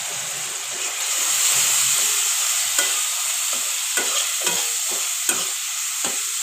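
Spices and chopped tomato fry in oil with salt, turmeric and chilli powder for Bengali-style pabda fish curry: a steady close sizzle with a hiss behind it, broken by repeated scraping clicks from a stirring spoon against the pan.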